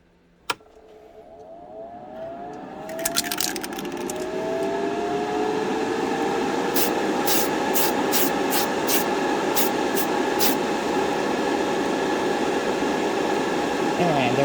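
Primer aerosol sprays steadily onto the trunk lid of a 1968 AMT Corvair model car, a continuous close hiss that swells after a short click and holds evenly to the end, with faint rattling ticks partway through.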